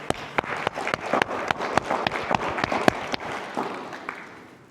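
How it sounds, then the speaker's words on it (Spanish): A church congregation claps after a sermon, a sparse round of distinct hand claps in an irregular, overlapping rhythm that trails off at the end. "Vamos a dar un aplauso"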